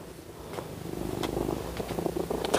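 A cat purrs close by in a soft, rhythmic rumble of steady breaths that grows slightly louder over a couple of seconds, with no talking.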